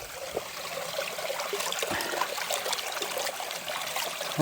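Water flows in a mountain valley stream on a summer hillside, a steady close trickling and babbling rush that fills the whole stretch without any talk.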